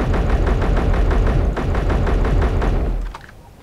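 A standard 20-round rifle fires in a space-themed Minecraft-style game, a rapid, even string of loud close shots that stops abruptly near the end.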